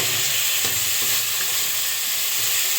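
Spice masala is stirred and fried in oil for a pabda fish curry, a constant loud sizzle with faint scraping stirs throughout.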